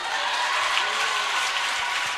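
Sustained applause from a church congregation at a Kinyarwanda worship gathering, a steady dense wash of clapping held at even loudness throughout with no speech over it.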